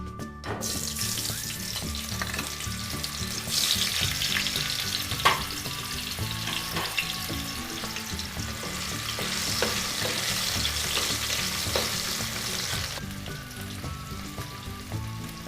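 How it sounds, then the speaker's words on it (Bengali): Potatoes fry in hot mustard oil in a wok, giving a steady, close sizzle with occasional stirring scrapes and clinks throughout, with no talk over it. "এবার আলুগুলো ভেজে নেব"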